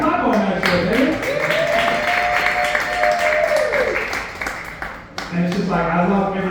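A bar crowd in Las Vegas claps during a stand-up birthday set, a steady wash of hands running under someone talking loudly over it.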